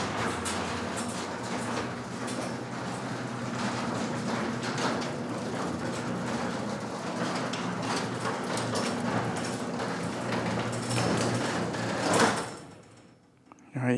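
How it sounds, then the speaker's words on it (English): A home garage door rumbles and rattles steadily for about twelve seconds as it closes, ending in a sharp thud and sudden quiet, with a faint voice underneath. "Closing the garage door."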